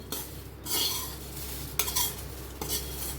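A spoon stirs masala through puffed rice for chivda in a pan, giving soft scraping and rustling strokes with a few louder clinks against the metal, close by and without talk.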